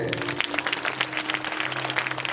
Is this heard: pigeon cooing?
no